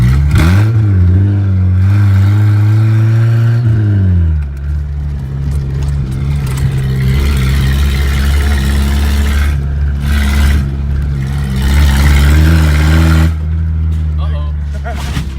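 A loud, raw 1989 Ford Ranger engine revs up and down, harsh and unmuffled with the exhaust cut off at the manifold, with people talking over it.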